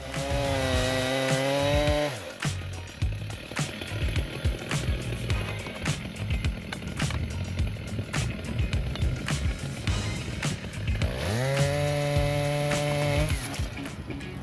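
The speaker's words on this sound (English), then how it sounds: "this style 90 chainsaw is a force of nature, conquering giant tree trunks with unparalleled power" A Stihl 090 chainsaw cuts through giant tree trunks, its engine screaming at high revs at the start and end, with a rougher, bogged-down snarl while the chain bites through the wood in between.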